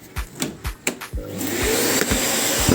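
A vacuum cleaner switches on after a few sharp knocks and sucks up construction debris, wood shavings and old clay, from an attic floor before insulation, a steady close whooshing roar.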